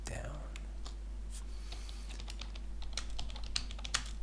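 Quick irregular clicks of typing on a computer keyboard, close and fairly faint, over a steady low hum, growing a little denser toward the end.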